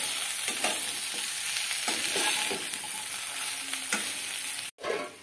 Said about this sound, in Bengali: আর এটাকে আমি এখন এভাবে নেড়ে নেব আর ঢাকা দিয়ে দেব